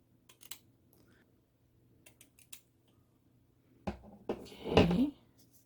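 Scissors snip the ends of a ribbon bow, a few faint small clicks early on followed by louder, closer crisp cuts and handling rustle near the end, with no talking.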